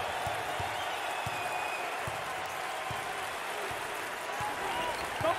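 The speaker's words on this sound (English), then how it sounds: "Wow, listen to those fans. The crowd is thunderous." Large indoor basketball arena crowd in the NCAA 2022 video game roaring and cheering steadily, a dense wash of voices with scattered clapping throughout.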